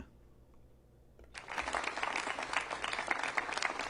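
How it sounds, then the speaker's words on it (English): Quiet background at first, then light, scattered golf-clap applause from an audience starts up and continues at a modest, polite level. "Oh, it's a bit golf clap."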